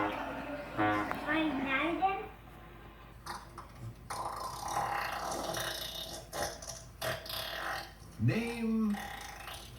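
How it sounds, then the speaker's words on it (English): Someone lets out a burp as a short guttural sound, followed by further vocal noises and speech in the background. "Someone burping."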